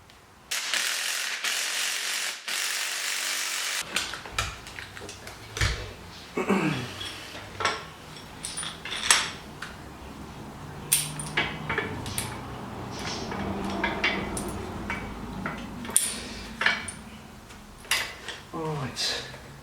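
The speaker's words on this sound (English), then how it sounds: "So here I'm just in the process of putting on the first spring compressor." A spring compressor is fitted onto the suspension of a Nissan Cube Z12 in a garage: scattered ratchet clicks and metallic clinks, with bursts of tool noise between quieter pauses.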